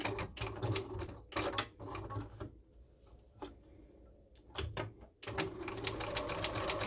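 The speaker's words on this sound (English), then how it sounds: "And I'm going to chain sew these." A home sewing machine chain sews scrub hat pieces one after another without breaking the thread, its needle running in close, rapid bursts split by short pauses and soft handling clicks.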